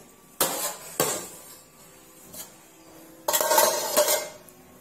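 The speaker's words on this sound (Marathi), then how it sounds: "हे भांडे आपण आता खाली उतरून घेऊया।" A metal cooking pot used for dal baati is lifted off a gas stove, giving several sharp, close metallic clanks and scrapes separated by short pauses.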